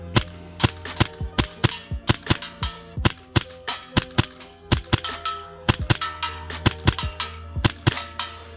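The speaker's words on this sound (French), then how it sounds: "là je tire en rafale sur une cible de 20 cm à 20 mètres" A custom Hi-Capa airsoft pistol firing bursts at a 20 cm target 20 metres away, sharp close snapping shots in rapid clusters and doubles with faint metallic pings from the target, over a steady low hum.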